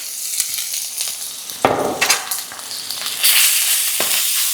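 Ginger garlic paste hitting hot coconut oil, bursting into a loud crackling sizzle with sharp spits and pops in bursts, swelling again toward the end.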